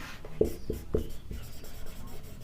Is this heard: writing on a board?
yes